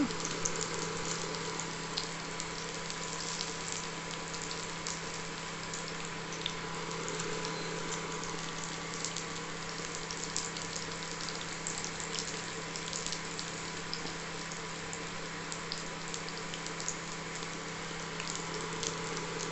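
Onions fry in a pan for vegetable pulao, giving a steady, even sizzle with a faint constant hiss throughout and no talking.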